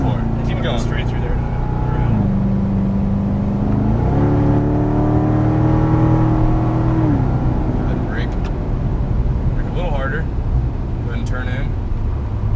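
A Chevrolet Corvette Stingray accelerates at full throttle on a coned course, its engine note climbing steadily and loudly while an instructor talks over it.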